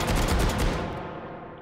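Desert Eagle .50 AE pistols fired akimbo in a VR shooting game, a rapid burst of loud overlapping gunshots that decays into a fading tail.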